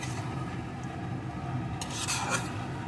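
A spoon scrapes and rubs through a thick fish head and bottle gourd curry with lentil dumplings in a pot, soft steady stirring with a brief brighter clatter near the end.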